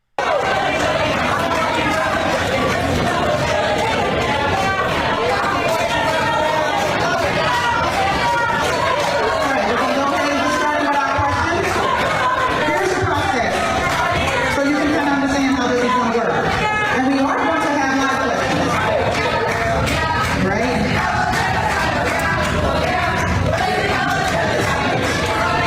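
Crowd chanting in unison at a protest, a loud rhythmic chorus of many voices with shouting and chatter mixed in, continuous throughout.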